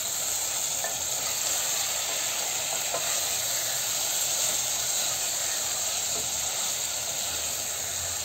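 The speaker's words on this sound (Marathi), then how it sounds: "आता या सगळ्या भाज्या आपण छान हलवून घेऊया" Wal papdi beans and other vegetables with diced potato sizzle steadily in a hot pan while being stirred, a constant close hiss with no voices.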